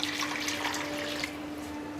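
Water poured from a tap into a bowl of soaked white chickpeas, a steady splashing trickle close by with a faint whistling tone, easing slightly partway through, with no talk.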